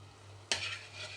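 Mashed gongura leaves tipped into a simmering village-style curry land with a sudden wet thump and sizzle, followed by a steady hiss of frying as the mixture is stirred.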